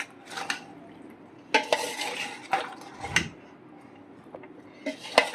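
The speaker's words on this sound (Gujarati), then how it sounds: "આપણે આ રીતે ચમચો મારી લેશું." A metal spoon scrapes and clinks through raw mango pickle pieces in a container, giving a few separate stirring knocks and rattles with quiet gaps between them and no talk.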